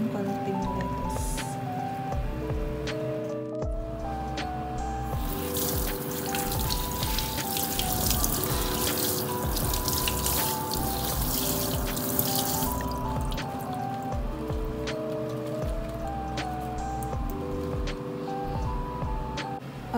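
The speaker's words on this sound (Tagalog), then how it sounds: "maghugas tayo ng konting lettuce" Lettuce is rinsed under a running kitchen tap in Japan, with steady water splashing and dripping throughout, while soft background music plays beneath.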